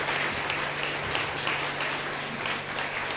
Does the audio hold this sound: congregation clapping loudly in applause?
yes